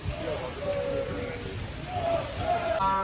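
Heavy rain pours down on a crowd of football fans outside a stadium in Dortmund, a dense continuous hiss of falling water with faint voices and tones scattered through it.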